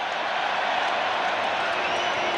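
A Hong Kong rugby sevens stadium crowd keeps up a steady, dense roar of cheering and applause during an injury stoppage, broad and continuous throughout without breaks.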